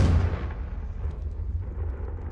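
A Confringo blast spell in Hogwarts Legacy goes off with a heavy, loud boom at the start and then rolls away into a low rumbling decay.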